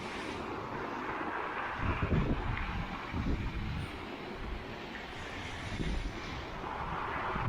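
Strong wind roars across the microphone in gusty surges on the Black Sea coast at Hoynat Island, rumbling and buffeting loudly throughout with no clear voices.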